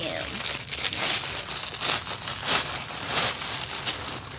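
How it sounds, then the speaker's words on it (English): Plastic mailer packaging from an online clothing order crinkling and rustling in bursts as it is torn open and handled, close and fairly loud, with a person talking over it. "So much crinkling."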